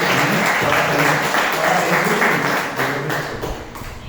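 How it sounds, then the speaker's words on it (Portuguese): A church congregation claps along during a Portuguese-language service, dense clapping over a steady low musical drone, voices mixed in, fading slightly toward the end. "Bata palmas para Jesus."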